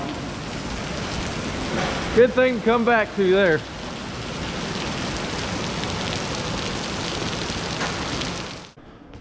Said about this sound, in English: Raining, really raining.